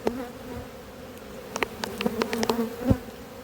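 Honey bees buzz around an opened hive at an apiary, a soft, steady drone with several louder individual bees passing close by in quick succession.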